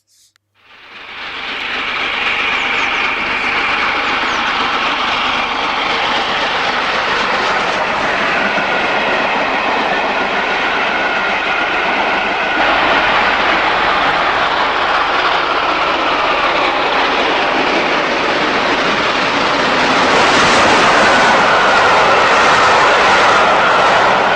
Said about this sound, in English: Edward Thompson storms through with a fast-fitted freight.